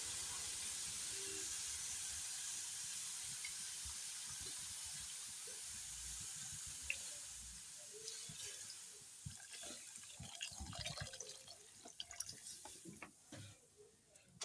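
Dal and squash curry simmering in water in a pot, a steady hissing bubble at low volume that turns more uneven toward the end, with scattered small clinks and knocks.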